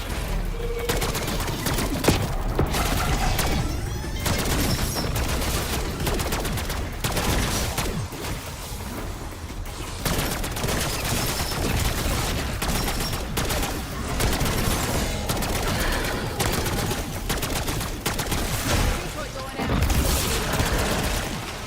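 Rapid bursts of automatic gunfire from the Black Ops 6 video game rattle almost without pause, loud and dense, with heavy impacts and brief lulls, and a player's voice occasionally cuts in over the shooting.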